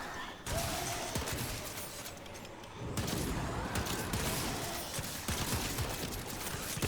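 Zakti pistol firing in the shooter game Warframe: a dense, continuous clatter of shots and mechanical noise, with a few sharp bursts breaking the steady loud roar.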